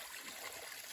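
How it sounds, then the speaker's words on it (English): Mountain spring water trickles steadily from a source on the Appalachian Trail, a close, continuous burbling dribble with no voices. "Here's the last water before you get to Rocky Mountain. Flowing great."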